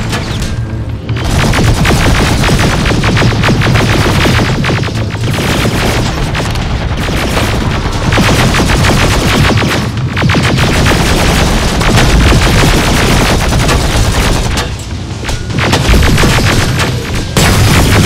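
Sustained heavy gunfire in the Terminator: Resistance video game, dense bursts of rifle and automatic fire with booming impacts, loud and continuous with brief pauses, no speech heard.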